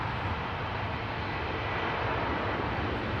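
An airliner taking off at DCA airport, a broad steady jet engine roar with low rumbling, loud and sustained with no speech over it.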